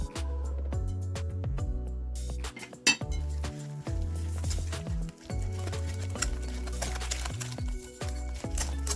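Doughnut dough ingredients being stirred in a bowl, with a spoon scraping and clinking against the sides in uneven repeated strokes, close and fairly loud, with occasional sharper knocks.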